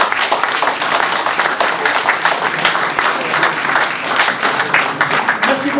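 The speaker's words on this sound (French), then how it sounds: "On applaudit monsieur le maire." A crowd at a national day of homage to the Harkis in Florange claps for the mayor, dense continuous applause, loud and close, sustained without a break.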